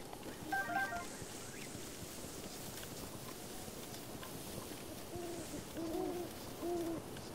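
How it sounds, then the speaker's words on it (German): An owl in the video game Zelda: Breath of the Wild gives a few soft hoots, one early and a short run of low hoots near the end, faint over a quiet game ambience. "Die Eule wieder."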